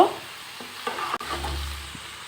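Greens cook in a home kitchen pan with sugar added, and a spoon scrapes and stirs against the pan in short strokes over a steady low sizzle, close and fairly quiet.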